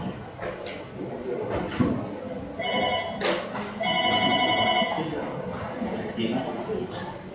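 Unify VoIP desk phone ringing in repeated electronic tone bursts, heard under a man's continuous speech in an office setting.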